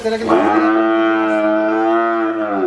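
A Holstein Friesian cow on a dairy farm gives one long, loud, close moo that holds steady for over two seconds.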